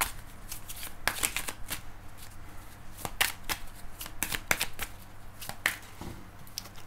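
A deck of Arcanon tarot cards is shuffled by hand, a run of close, crisp riffling and slapping bursts at an irregular rhythm, with no talking.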